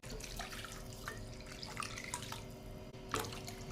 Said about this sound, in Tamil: ஒரு 3 கப் அளவுக்கு நம்ம தண்ணி சேர்த்திட்டோம்.